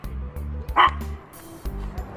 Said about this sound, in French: C'est une chienne non?